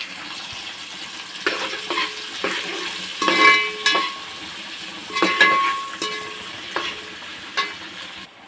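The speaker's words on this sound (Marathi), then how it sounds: "आता याला आपण फोडणी घालूया। तेल गरम झालेलं आहे, त्याच्यामध्ये घालूया आपण कढीपत्ता," Curry leaves, mustard seeds and cumin sizzle in hot oil for tempering while a utensil stirs and scrapes the pan in repeated strokes, close and moderately loud.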